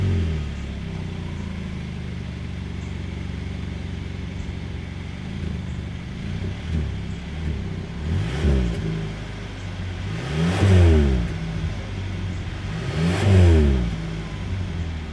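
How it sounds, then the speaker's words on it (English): A 2022 Hyundai Sonata sedan's exhaust, heard close up idling and then blipped through several sharp rising revs that swell and fall back, with the last two revs the loudest. "As always, here is that exhaust clip."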